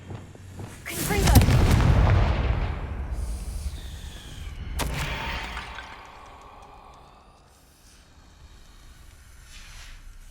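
In the Hogwarts Legacy video game, a Confringo blasting spell sets off a loud booming explosion that rumbles and fades over several seconds, followed by a second sharper blast and a lingering low tail.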